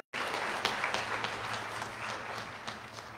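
A church congregation at a First Baptist service applauds a newly elected deacon chairman, steady clapping from many hands sustained throughout after a brief silent start.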